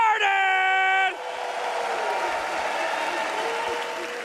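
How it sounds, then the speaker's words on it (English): Audience applause and cheering at The International 2025 Dota 2 tournament, a loud steady crowd roar that opens with a sustained horn-like tone before settling into continuous clapping and shouts. "You'll get one more round of applause for all the teams as we get this day started!"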